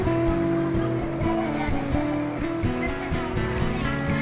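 Water rushing and splashing at a waterfall in Gan HaShlosha spring park in Israel, a loud, continuous wash close by with a few brief knocks and bumps and no speech.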